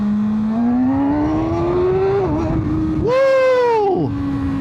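A Kawasaki ZX6R sportbike pulls hard from first gear, its engine whine climbing steadily in pitch, dipping at a shift, then screaming high again before easing off, loud and close.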